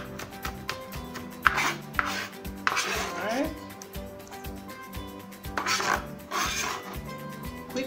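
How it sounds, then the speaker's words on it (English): A knife chopping ingredients for saltfish fritters on a board, a brisk irregular run of close, crisp knocks and cuts with no talk. "I'm just using the handle and moving it up and down to cut the stuff."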